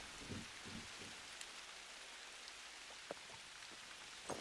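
Faint steady rain hissing on surfaces in the hunting video game Hunter Call of the Wild, with a few soft scattered drops and thuds in the background.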